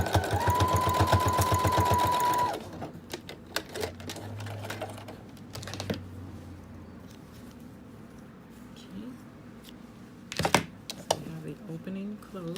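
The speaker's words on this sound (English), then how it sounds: "To stitch right along the seam." A sewing machine runs a quick loud burst of stitching along the seam of a tube top, then stops, followed by quieter handling clicks and fabric rustle.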